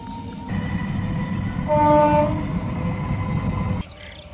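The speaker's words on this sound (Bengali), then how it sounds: "সামনে দেখো ট্রেন যাচ্ছে" A train passing along a line beside water chestnut fields, a steady rumbling roll that swells midway with a sustained horn-like tone, then cuts off abruptly near the end.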